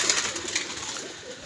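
Pigeons cooing at a loft, soft rolling coos close by over a light background hiss, one bird calling in short repeated phrases.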